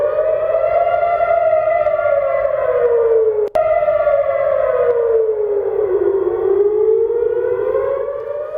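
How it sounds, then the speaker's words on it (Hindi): Air raid sirens sound over Tel Aviv during an Iran–Israel war attack: a loud, continuous wailing tone that slowly rises and falls, with a brief sharp click partway through and no voices. "तेल अवीव में हवाई हमले के बाद सायरन बजे हैं, हवाई हमले के सायरन बजे हैं और ये सायरन लगातार बजते जा रहे हैं।"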